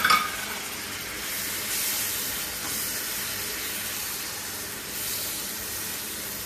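Finely chopped tomato with garam masala sizzles in a hot pan, a steady close hiss of frying after a brief louder burst at the start, with no talking.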